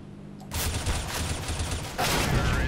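Gunfire in the video game CS:GO, a dense, loud rattle of rapid automatic shots in two sustained bursts with a brief pause between them, after a quieter moment at the start.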